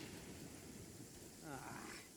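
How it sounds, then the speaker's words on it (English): Rain and rumbling thunder from a lightning storm in the video game Genshin Impact, a steady broadband wash of rainfall with a low rolling rumble, brief and fairly quiet, with a voice speaking over it. "Uh-oh! Lightning storm!"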